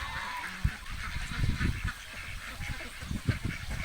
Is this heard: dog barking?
no